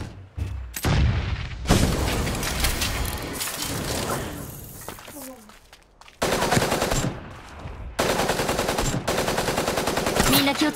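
Loud bursts of rapid automatic gunfire in the mobile video game Super Mecha Champions come in several volleys, with booms and short pauses between them.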